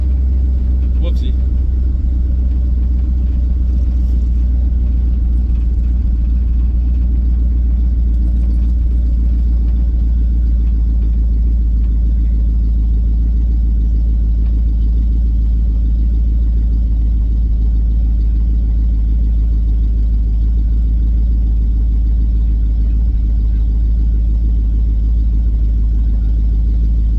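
A car engine idles steadily at a car show, producing a continuous low rumble with the exhaust running throughout, and people talk over it now and then.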